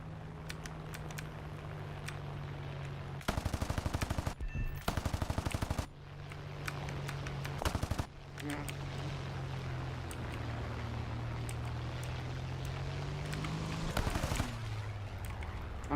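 P-47 fighter machine guns in an air-combat game fire in three sustained bursts of rapid crackling over a steady engine drone, loud and close, with no talking.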